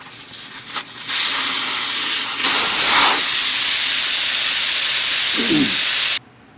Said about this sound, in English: First thing on the list is deflate the tire if not already flat.